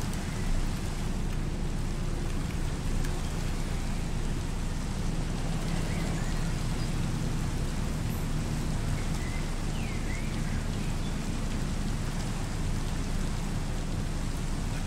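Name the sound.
rain falling in Minecraft video game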